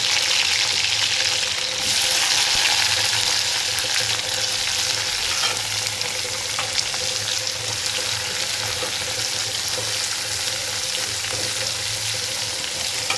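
Onions frying in hot oil tempered with cumin and mustard seeds for a mushroom pulusu: a loud, continuous close sizzle with faint stirring that runs throughout, without talk.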